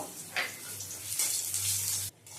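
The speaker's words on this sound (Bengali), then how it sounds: "এর মধ্যে প্রথমেই বড়িগুলো একটু ভেজে নেব" Bori lentil dumplings fry in mustard oil in a wok with a steady, close sizzle that swells and fades before cutting off near the end.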